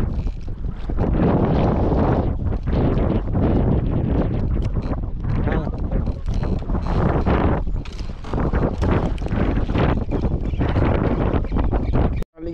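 Strong wind at sea buffets the microphone on a small boat during micro jigging, a loud, continuous roar and rumble that fills the whole stretch with no let-up.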